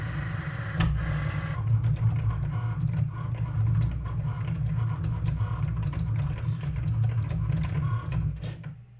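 A Cricut cutting machine feeds a mat through while cutting metallic leather, giving a steady low mechanical whir and rumble with faint ticking, continuous and close for the whole stretch, with no talk.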